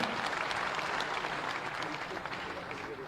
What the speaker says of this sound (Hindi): एक बार जोरदार तालियों से स्वागत और अभिनंदन करें